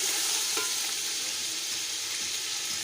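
Tomatoes, chili and coriander frying with homemade biryani masala, a loud continuous hiss and sizzle close up, with no talking.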